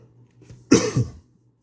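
A person with a troublesome cough lets out one sharp, harsh cough close by, followed by a short rough trailing burst in an otherwise quiet indoor setting.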